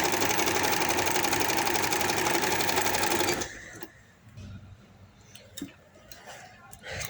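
Sewing machine stitching the armhole seams of a frock, a loud rapid continuous whir for about three seconds that stops abruptly, followed by quieter handling sounds and someone speaking.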